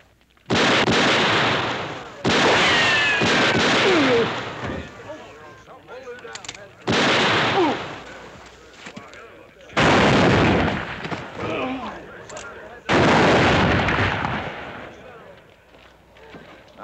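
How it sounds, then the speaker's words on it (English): Gunfire from a western TV drama rings out in several loud, broad bursts of shots spaced a few seconds apart, each followed by a decaying echo and some background commotion. "That's enough shooting."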